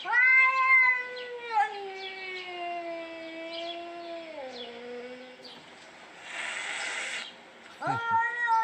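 A cat gives long, drawn-out yowling meows that slide down in pitch, with a breathy hiss in the middle and a sharp cry at the end, close and fairly loud, with no talk.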